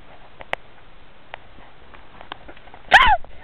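A dog gives a sudden loud bark near the end, after a stretch of quiet rustling and soft footfall-like taps outdoors.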